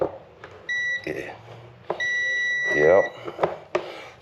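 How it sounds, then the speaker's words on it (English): A Cub Cadet RZT 42 zero-turn mower gives off steady electronic warning beeps in two long tones, heard close up while people talk over them. "we should have some beeping going on over here"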